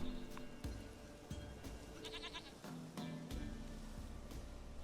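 A goat bleats in the video game The Witcher 3, a few short cries rising over a steady game ambience with some thumps, fairly close and alone without speech.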